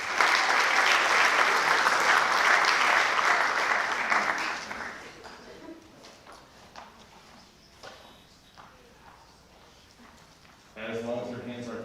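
At a high school honors convocation, an audience's loud, sustained applause fills the first few seconds, then fades away as a voice speaks quietly over the room.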